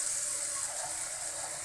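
Water pours steadily into a pan for a kale and potato dish, a continuous soft hissing rush that stays even and fairly quiet throughout, with no voices.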